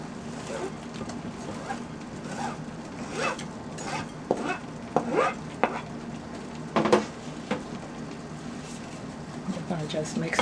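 Light scraping and clinking of a spoon stirring Liberian vinegar pepper in a container, intermittent soft strokes that pick up into a few sharper taps, faint against a low steady room hum.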